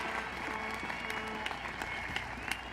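Steady, even applause from a commencement audience, a continuous wash of many hands clapping at moderate distance with a few sharper claps standing out.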